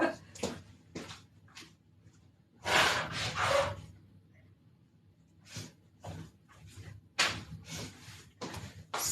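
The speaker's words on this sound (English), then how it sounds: "I'm gonna step away from the camera for just 1 second because I gotta blow my nose" A person blowing their nose during an allergy flare, a few sharp nasal blasts and snorts with breathy gaps between them, close and fairly loud, plus some rustling.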